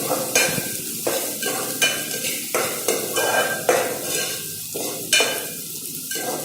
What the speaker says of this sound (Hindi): हम प्याज को थोड़ा सा भून लेंगे